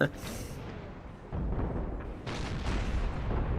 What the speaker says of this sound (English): artillery is just able to fire with impunity